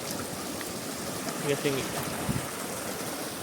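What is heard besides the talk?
river flowing below a campground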